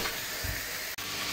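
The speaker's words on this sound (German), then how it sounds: "So, das Kraut kocht." Sauerkraut boiling in a pot on the stove, a steady close hiss and bubbling simmer with a brief dull knock, and no talking.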